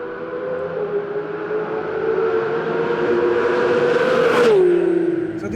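Narain Karthikeyan drives a Porsche 911 GT3 RS around his own race track, its engine a loud, steady droning howl from inside the car that drops sharply in pitch near the end.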